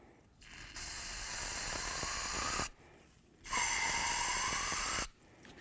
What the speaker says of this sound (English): let's put a little bit of parts cleaner inside here and let it sit for a second